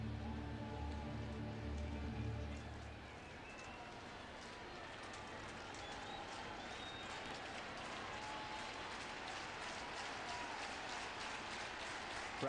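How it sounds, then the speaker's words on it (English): Baseball crowd at Busch Stadium in St. Louis during a Rays versus Cardinals game, a broad steady roar of cheering and applause that swells at the start, then settles into a dense wash of noise. "Crowd comes alive here at Busch Stadium."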